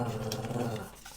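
A dog growls low and steadily at close range, and the rumble shifts into a brief whine near the end.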